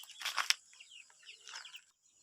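A chicken clucks softly near a drinker, a few quick, close clucks at the start followed by a short run of quieter, chattering murmurs in a calm outdoor setting.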